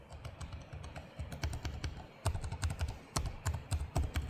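Fingers type quickly on the keys of an HP OMEN Max 16 (2025) gaming laptop keyboard, a dense, irregular run of crisp clicky keystrokes close to the microphone, with no voices.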